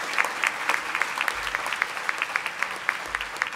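Audience applause fills a hall at a veterinary hooding ceremony, a dense steady patter of many hands clapping at moderate distance, continuous throughout without speech.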